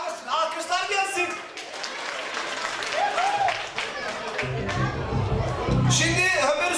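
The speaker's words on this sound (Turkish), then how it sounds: "alkışlar gelsin" Guests at a circumcision ceremony celebration applaud, scattered clapping and crowd noise running under someone talking over a microphone, with a low sustained musical tone entering near the end.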